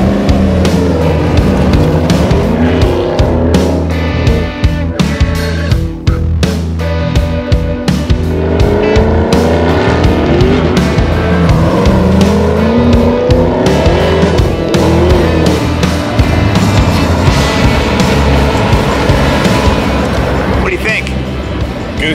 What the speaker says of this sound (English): let's see what this car does